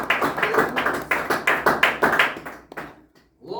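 A church congregation clapping for Jesus in steady rhythmic unison, loud and full, fading out near the end before clapping picks up again.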